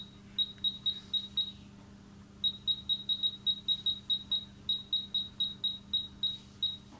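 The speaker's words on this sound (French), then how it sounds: "Et je vais mettre le minuteur pour ne pas oublier." A rapid series of short, high electronic beeps in quick bursts over a low hum, as buttons are pressed to set a kitchen timer for meat smoking in an oven.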